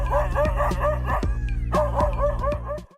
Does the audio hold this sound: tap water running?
no